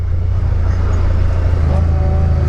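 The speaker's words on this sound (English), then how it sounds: "That's a pickup truck." A pickup truck drives out on winter lake ice, its engine a steady low rumble that stays loud and close throughout, with faint tonal whine rising near the end.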